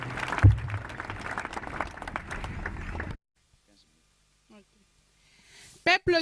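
A church congregation at a national convention applauds and cheers loudly for about three seconds, then the hall goes almost silent before a single voice starts speaking.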